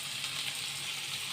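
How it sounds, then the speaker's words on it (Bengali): A finely chopped medium onion fries in hot oil in a pan over a medium-low flame, giving a steady, close sizzle throughout with no voices. "পেঁয়াজটা দিয়ে এবারে পেঁয়াজটাকে লাল লাল করে ফ্রাই করে নিতে হবে।"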